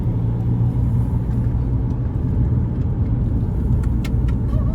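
A car cruises on the NH44 highway in India. Its cabin is filled with a steady, close rumble of engine and road noise, with no change in pace and a few faint ticks near the end.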